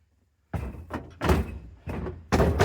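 Metal refrigerator doors are tossed onto a scrap load, producing a series of four heavy, hollow thunks and bangs in irregular rhythm, close and loud.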